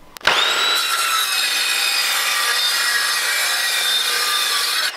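A wooden board being cut to length with a hand saw, a steady, continuous rasping stroke close by that starts abruptly and runs unbroken for several seconds, loud and alone with no voices.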